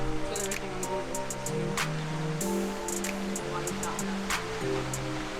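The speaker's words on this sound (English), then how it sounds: "I like the water fountain out here better." Continuous splashing and rushing water from an outdoor fountain in Madrid fills the scene, steady and fairly close, with voices faintly audible beneath it.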